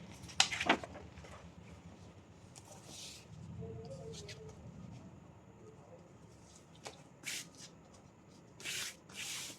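Fabric being folded by hand during a tailoring class on bonnet drafting, giving soft, close rustling and brushing with a few sharper handling clicks, quiet throughout.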